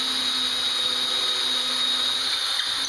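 A power drill whines steadily while boring a hole into a piece of ash wood for a hanger bolt, a continuous close, high-pitched motor tone with no talking.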